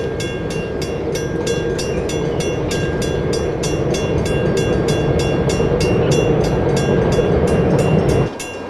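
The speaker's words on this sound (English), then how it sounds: "As the fast electric-hauled freight trains pass through remote towns like National Park" An electric-hauled freight train passes close through a remote town, a loud continuous rumble with a regular rapid clatter of wheels over rail joints, cutting off abruptly near the end.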